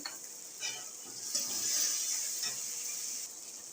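Spice paste frying in a pan over a medium gas flame while cooking an aloo potol soybean curry, soft hiss and sizzle rising and falling with a few stirring scrapes, close but quiet.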